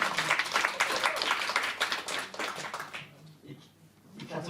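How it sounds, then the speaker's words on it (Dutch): An audience applauds a poet at a live cultural evening, a brisk burst of clapping with some talk mixed in that fades out partway through, leaving quieter sound before a brief swell returns. "Applaus voor onze dichter Neil."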